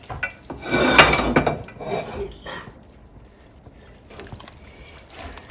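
Dishes and cutlery clink and clatter as a homemade Bengali meal is served onto plates, with a busier burst of clinks at first followed by softer handling noises.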